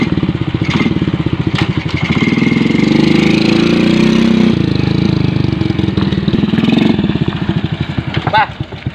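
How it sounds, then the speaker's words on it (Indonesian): A motorcycle engine runs steadily close by, its putter rising and settling, while people talk over it. "Bener motor teh hurung."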